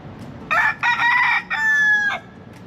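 A free-roaming rooster in the streets of Ybor City crows loud and close, a broken multi-part call of three bursts ending in a long held note, standing alone with no talk.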